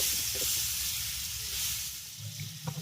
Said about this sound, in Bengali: তেলের সঙ্গে আলুটাকে একটু নেড়ে চেড়ে নেব